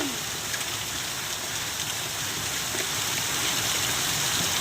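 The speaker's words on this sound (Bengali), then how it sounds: "এই দেখো বড় বড় সিল পড়ছে" Heavy rain with large hailstones falls on a street in Kharagpur, a dense, steady hiss of downpour that fills the whole scene evenly and stays loud throughout.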